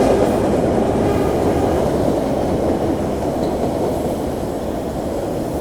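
An Ashmont-bound A train rumbles past close by, a steady, loud rolling roar of rail cars that holds level for the whole stretch and eases slightly toward the end, with no voices.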